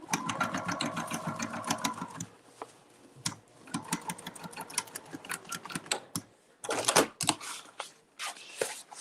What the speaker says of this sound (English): Just sew it however you need to.